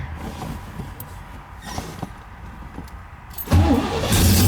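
Big block engine of a 1969 Corvette C3 garage find cranking, then firing up with a sudden loud roar that settles into a rough, steady run, heard close by.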